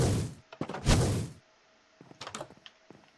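Two heavy booming cannon shots from a video game, followed by a cluster of smaller thuds and clattering impacts, with quiet gaps between.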